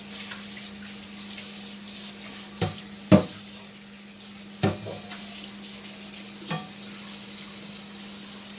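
A hot hibachi pan being washed out with water, a steady hiss and sizzle with a few sharp scrapes and clanks of a utensil against the metal, close by.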